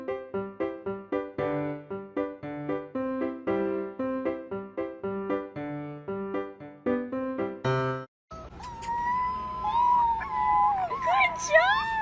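A puppy howls in a backyard during leaf-blower cleanup: a rising, wavering howl with whimpery breaks over a faint blower hum, coming after a bright music intro.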